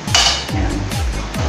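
Squid and mushrooms are stirred in a cooking pan, loud and close, with a utensil scraping and clinking against the metal in four quick rhythmic strokes.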